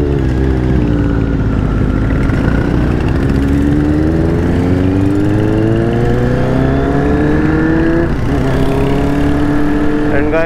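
A Royal Enfield Scram motorcycle engine revs steadily and rises in pitch, loud and close throughout, with faint voices in the background.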